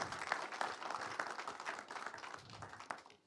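Audience applause at a film teaser launch event, a burst of many hands clapping briskly that gradually thins and fades over a few seconds.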